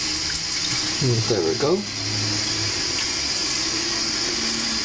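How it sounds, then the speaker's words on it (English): Tap water run slowly into a rice cooker bowl: a steady, soft trickle continues throughout under a man's brief spoken remark. "Now run your water on slow and go by the edge here"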